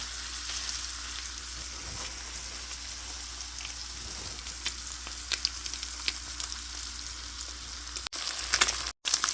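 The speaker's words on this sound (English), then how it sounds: "Once the oil's hot, I had a whole whack of butter, and then add the fillets." Walleye fillets breaded in crushed dill pickle chips fry in a pan of butter and oil, giving a steady close sizzle with scattered crackles and pops throughout.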